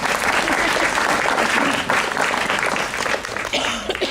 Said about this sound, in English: we can just give them a nice round of applause again